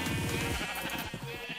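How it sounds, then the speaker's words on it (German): Pink-dyed sheep in the Minecraft video game bleating up close, a single wavering, nasal bleat that fills the short moment with steady in-game ambience behind it. "Jetzt haben wir noch ein paar rosa Schafe."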